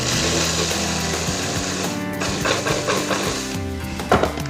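Food processor whizzing ground cookies with melted butter, a loud steady motor whir with brief changes in pitch as the blade churns the crumbs, no talk.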